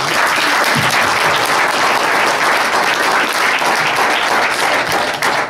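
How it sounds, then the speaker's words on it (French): Sustained applause from a crowd at a political campaign meeting, dense and steady clapping filling the whole stretch at close, loud level without a break. "moi je dis bravo, je l'applaudis."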